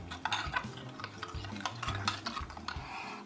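A roast is stirred with stock in a pot, giving quiet, close scraping and clinking strokes with a faint wet sizzle and no voices.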